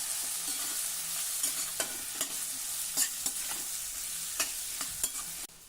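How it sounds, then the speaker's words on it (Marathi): Sliced ivy gourd and curry leaves are stirred in a wide, heavy-bottomed kadhai, with a steady oily sizzle under repeated scraping strokes of the spoon, close and alone. "4 ते 5 कढीपत्त्याची पानं आणि ही कापलेली तोंडली घालूया. व्यवस्थित मिक्स करून घेऊ."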